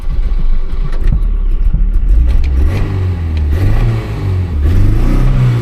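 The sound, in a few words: Volvo 240 engine with Bosch K-Jetronic accelerating, revving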